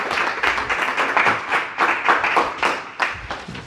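Audience applause at a close-range gathering, a steady run of hand claps with loud uneven bursts that swell and ease over a few seconds.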